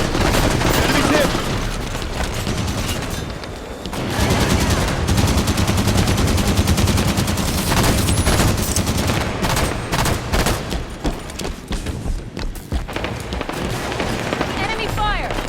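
Gunfire in a Halo 5 Warzone match, dense and loud, with rapid automatic bursts and heavy shots crowding one another almost nonstop, along with booms and game voice callouts over the shooting.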